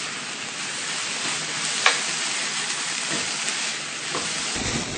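Spices with salt, red chili powder and sambar masala being stirred into onions frying in a pan, a steady close sizzle with soft scraping from the spoon and one brief sharp clink partway through.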